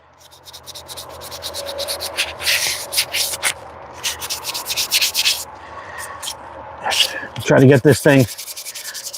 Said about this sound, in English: ASMR sanding with ATO.